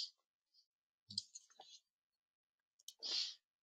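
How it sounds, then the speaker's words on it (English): Mouse clicks while adding entries in Business Central timesheet software, a few short separate clicks spread across a quiet stretch, close and fairly faint. "And so I just keep clicking add to add more of those options."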